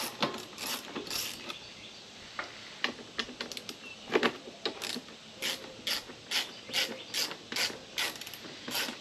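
Rapid ratchet clicks in repeated bursts, close and fairly crisp, as a ratchet wrench backs out screws holding the front switch-and-outlet panel of a Honda generator; no talk.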